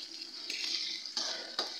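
Onion and ginger-garlic paste stirred and fried in a pan, a steady close sizzle with a couple of brief scraping stirs near the end.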